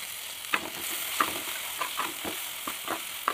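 Tomato pieces fry in a pan for a ladyfinger fry, a soft, steady sizzle with repeated scraping stirs and clicks of a spoon at close range.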